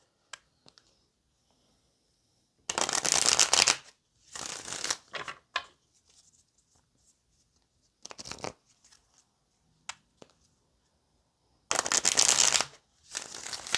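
Tarot cards being shuffled close up in several separate riffling bursts, with quiet gaps and small taps between them.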